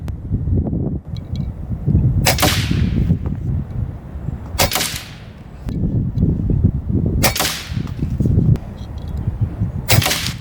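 An AirForce Condor SS airgun fires 40 grain slugs outdoors, four sharp cracks spaced a couple of seconds apart over steady wind noise and low rumble.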